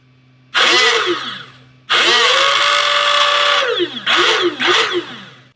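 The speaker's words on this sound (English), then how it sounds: "And I'm going to connect my battery and hit the rev." Flywheel motors in a homemade Nerf Gryphon blaster rev up in three bursts: a whining spin-up and wind-down, a longer sustained rev, then two quick short revs, loud and close with a high electric whine.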